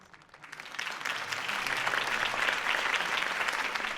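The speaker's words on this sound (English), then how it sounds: "could have heard that applause" A crowd applauds steadily at a political campaign speech in the video game Batman: The Telltale Series, the clapping swelling from a quiet start into a dense, sustained ovation that holds for several seconds.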